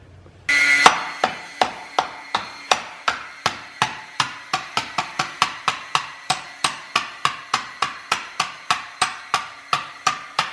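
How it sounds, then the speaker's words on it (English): Hammer repeatedly striking an engine cover held on by gasket sealer and pressure-fitted pins, about two dozen evenly spaced sharp metallic taps at a steady rhythm, close and clear with no talk. "I smack it with a hammer to get it off"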